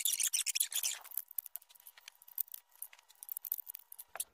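Scissors snip through the bottom of a plastic coffee cup being cut to make a self-watering lettuce planter, a close series of crisp, quick cuts and crackles that thin out into sparser snips.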